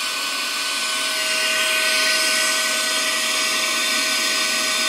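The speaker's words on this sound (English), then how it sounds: "the sound then was the device advancing to the next collection tube and the motor beginning to sample." A Burkard high-volume cyclone air sampler's motor runs at a steady, loud whine with a constant hum and tonal drone. It holds unchanged for several seconds and is heard alone without voices.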